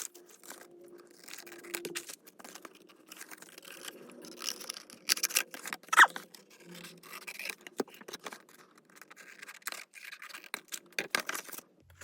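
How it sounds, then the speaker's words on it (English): Cardboard of a small box being cut down for a tiny junk journal, with crinkly snipping, tearing and rubbing noises in irregular bursts, close and fairly quiet, with no talking. "So I'm gonna go ahead and cut off the excess."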